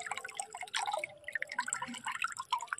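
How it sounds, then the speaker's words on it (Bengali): Freshly cut fish rinsed in pond water at a village pond's bathing steps, giving scattered small splashes and irregular drips, close and fairly soft, with no talking. "এই যে পুকুর ঘাট থেকে মাছটা ধুয়ে নেব, জলে পরিষ্কার করে চলে যাব বাড়ির ভেতরে"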